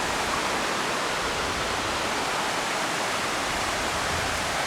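Floodwater of the Right Fork Holly River in Webster County, West Virginia rushes past in a steady, loud, broadband roar, close and continuous with no pauses and no voices.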